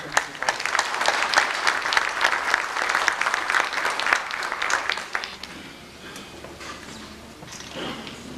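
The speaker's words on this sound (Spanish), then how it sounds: "Recibámoslo con un caluroso aplauso del movimiento." A warm round of audience applause at a meeting, dense clapping for about five seconds that then thins to scattered claps and room murmur.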